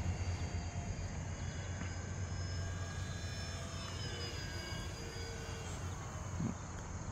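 A radio-controlled F4U-4 Corsair model airplane flies on a cool morning, its engine a steady, fairly distant drone with gently shifting pitch, heard alone over outdoor background hiss.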